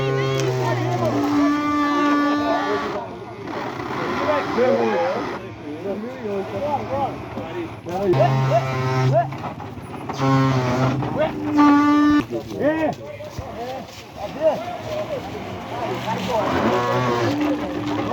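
A traditional ox cart drawn by oxen gives a loud, continuous wailing drone of long, moaning tones that rise, fall and break off in repeated stretches, with a rough rumbling beneath.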